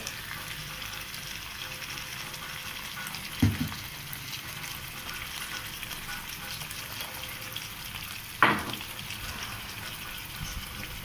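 Chicken frying with onions in a pan for a Pakistani-Singaporean rice dish, a quiet steady sizzle with two brief louder clatters.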